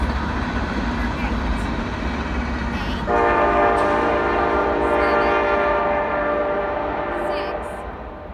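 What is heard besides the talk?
train horn sound effect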